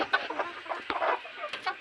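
Village chickens and roosters of the free-range country breed cluck close by, a quick run of overlapping bursts and short squawks that come in uneven clusters with brief gaps between them.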